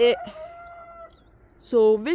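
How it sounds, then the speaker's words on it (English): A rooster crows with a drawn-out call, then short, loud clucks and squawks from chickens nearby on an Italian olive farm. "Chickens!"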